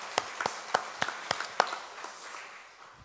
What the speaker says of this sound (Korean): 한국교회 남선교회 박수 좀 한번 쳐주세요